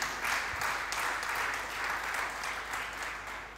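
Church congregation applauding during a sermon on the nine spiritual gifts, steady, full clapping from many hands that holds at an even level throughout.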